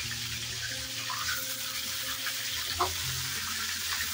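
Chicken pieces fry in hot oil with a continuous close sizzle and soft crackle, punctuated by a faint knock or two from stirring, with no talking.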